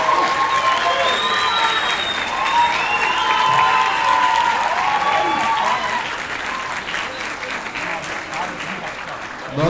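A crowd applauds loudly and steadily at a mock trial event at a law school, with cheering and voices mixed into the sustained clapping that eases slightly toward the end.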